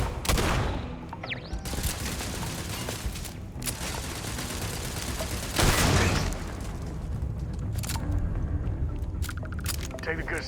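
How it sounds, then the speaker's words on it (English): Enemy gunfire in the Starfield video game, dense bursts of shots and booms packed into a loud, continuous barrage, with a voice talking over it. "Enemy fire."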